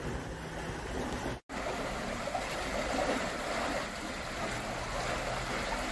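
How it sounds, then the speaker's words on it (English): Water rushes steadily through the opened paddles of a canal lock, a close, constant broadband gushing with one brief dropout early on. "I can hear the water coming out. Nikki's opened the gate, opened the paddles."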